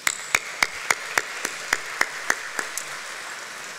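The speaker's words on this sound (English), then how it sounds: "Let's have a round of applause for our elected officials." Applause for elected officials at a chamber of commerce annual meeting, a sparse, evenly spaced series of single claps that thins out toward the end.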